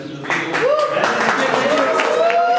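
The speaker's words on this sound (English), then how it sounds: "a round of applause for Tejas" An audience breaks into applause for Tejas at a live event, a steady patter of many hands clapping under a voice that keeps talking through it.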